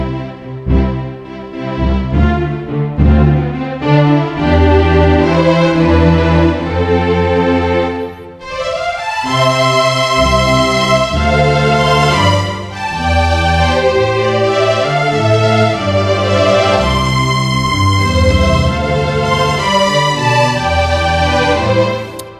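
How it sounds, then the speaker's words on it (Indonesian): String patches on a Yamaha MX61 synthesizer keyboard play sustained chords that swell and change through a long passage. The sound is loud and full, with a brief dip midway before it continues. "Ini suara stringnya asik-asik. Pilihannya banyak banget suaranya."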